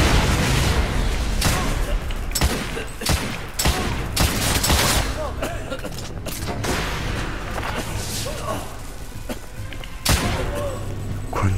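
Rifle gunfire in the video game The Order: 1886, with repeated sharp, loud shots and heavy booms in bursts throughout, while someone talks over the action.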